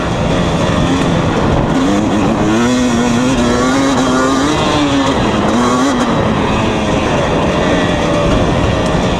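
A 2020 KTM 250 SX two-stroke dirt bike ridden on a dry, dusty track, its engine revving loud and close with rising and falling pitch sweeps, steady throttle noise throughout with no talk.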